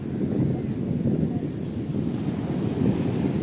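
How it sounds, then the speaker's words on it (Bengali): Sea waves crash against steep boulders near a lighthouse shore, a loud, continuous low roar of surf mixed with heavy wind buffeting the microphone, with no distinct talking. "সমুদ্র এখানে আছড়ে পড়ছে"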